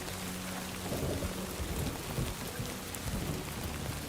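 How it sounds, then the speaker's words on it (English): Heavy rain pours steadily in the Death Stranding 2 video game, a dense continuous hiss with low thunder rumbles rolling underneath, loud and close throughout. "Look at this rain, dude."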